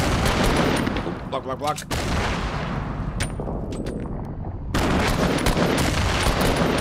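Rapid bursts of gunfire in Fortnite as shots come through a wall, loud clustered volleys opening and closing the stretch with a quieter gap between, while a player speaks over the shooting.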